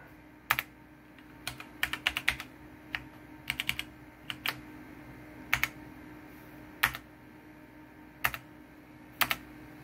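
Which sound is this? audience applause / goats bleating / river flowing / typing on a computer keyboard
typing on a computer keyboard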